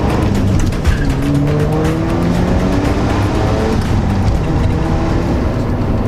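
A 1990s Mazda FD RX-7 rotary engine revs hard toward 8,000 RPM on a road, loud sustained engine roar with rising tones and road noise throughout.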